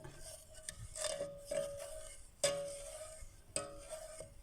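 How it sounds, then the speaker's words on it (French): Thyme syrup with honey being stirred: soft, quiet scraping and swirling strokes with a few sharper clinks, at a slow, uneven rhythm. "bien mélanger pour que le mélange soit bien homogène"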